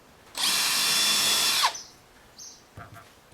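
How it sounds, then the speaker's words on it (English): A power drill whines at high speed for over a second drilling into deck wood at an angle, bites as it winds down, then a few light knocks follow. "so drill on a bit of an angle"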